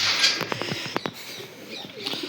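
Pigeons cooing in a loft, a few soft rounded coos and short calls close by, with faint chirps and a brief flutter of wings around them and no voices.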